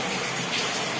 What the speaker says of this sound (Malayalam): ഇവിടെ നിന്നാണ് ഇങ്ങോട്ട് വെള്ളം വരുന്നത്